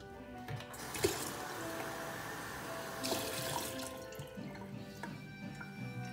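Water is poured out of a brush-cleaning container into a sink, a continuous splashing stream with a couple of louder surges, close by and without talk.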